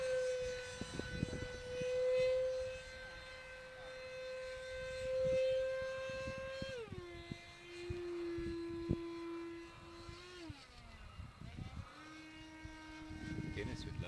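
An electric ducted fan model jet climbs overhead with a steady high whine that drops in pitch in stages as it pulls away, heard outdoors at moderate distance with some wind buffeting.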